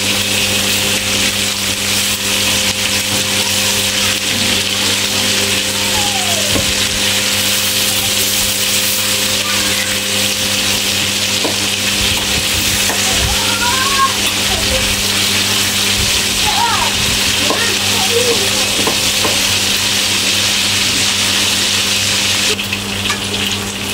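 Steady, loud sizzling of chicken frying in hot oil in a pan runs throughout, with faint voices and occasional kitchen clatter underneath.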